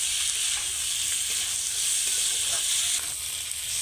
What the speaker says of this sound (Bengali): এবার আলুটাকে খুব সুন্দর করে ভেজে নেব।